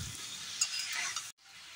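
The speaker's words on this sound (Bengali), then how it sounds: "আঁচ বাড়িয়ে আলু আর ফুলকপি ভেজে নেব।" Potatoes and cauliflower sizzle steadily in a pan over raised heat for khichuri, a dense frying hiss with light stirring that cuts off abruptly near the end, followed by a quieter sizzle.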